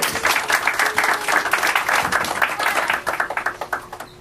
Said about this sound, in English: Let everyone give a big round of applause.